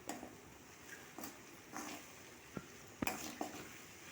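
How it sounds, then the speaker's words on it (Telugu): Okra masala stirred and fried in a kadai: soft background sizzle with scattered scraping and clinking of a utensil against the pan, several sharper clicks near the end, quiet and close, no voices. "బాగా కలుపుకుంటూ ఇలా ఫ్రై చేసుకోవాలి"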